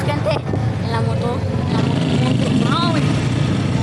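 Steady motorcycle engine drone while riding through a crowd, loud and continuous from start to finish, with voices speaking over it.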